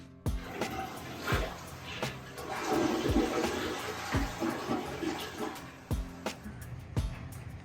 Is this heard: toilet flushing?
yes